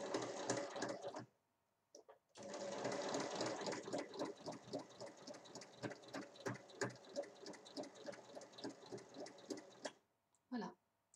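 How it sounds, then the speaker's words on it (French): Sewing machine stitching along a marked line on fabric for a rectangular basket, a long close run of rapid needle chatter after a short burst and pause, ending with a few brief clicks. "Et ensuite, on vient piquer sur le trait."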